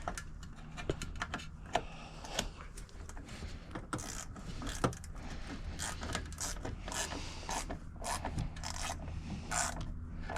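Ratchet tightening the last bolt, a faint, close series of irregular clicking and ratcheting strokes with small metallic taps, heard quietly alone.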